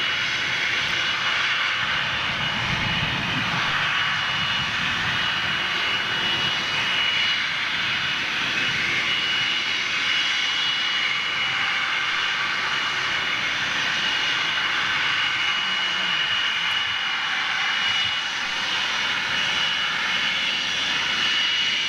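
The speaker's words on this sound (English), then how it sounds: "Look at the size of this aircraft." Airbus A330 jet engines roar steadily and loudly for the whole stretch, a broad sustained drone with no pauses and no talking.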